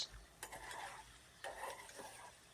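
Curry being stirred in a pot with a ladle, a few quiet scraping strokes against the pot at uneven intervals over a low simmering background.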